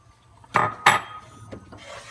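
A pan of melted butter set off the heat and scraped as flour goes in, two sharp metallic scrapes close together followed by softer rubbing and clinks, close and fairly loud, no talk.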